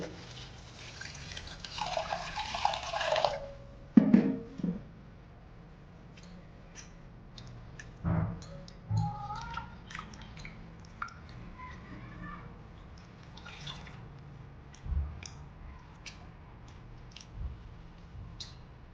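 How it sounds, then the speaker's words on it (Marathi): Poha flakes are rinsed in water in a kitchen, producing scattered soft splashes and clicks of bowl handling, faint and intermittent with quiet gaps between. "तर ते आपण पोहे स्वच्छ असे धुवून घेतले"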